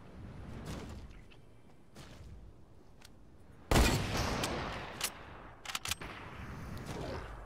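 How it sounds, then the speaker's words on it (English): In Fortnite during a one-shot game mode, a sniper rifle fires with one loud, sharp crack midway through, followed by a few fainter, distant pops over constant game background noise. "he's sniping at somebody else as well"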